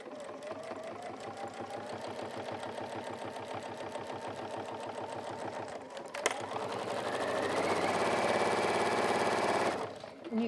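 Sewing machine stitching cork fabric without a walking foot, a close rhythmic clatter of needle strokes that settles into a smoother, higher whirring run before stopping.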